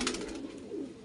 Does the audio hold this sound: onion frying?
no